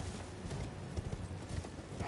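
Horse hooves clip-clopping in a rapid galloping rhythm in a dark fantasy video game, fairly quiet and steady across the whole moment.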